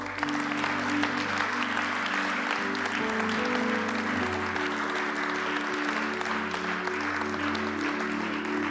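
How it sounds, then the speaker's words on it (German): Sustained applause from a crowd at a prayer gathering, steady and moderately loud throughout, with a faint musical drone underneath. "lass uns unserem Herrn einen großen Applaus geben."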